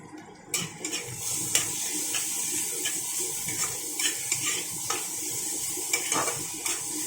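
Small chopped chicken pieces frying in a pan for chili gravy, a soft continuous sizzle broken by repeated light scrapes and clinks of stirring, close and quiet, no talk.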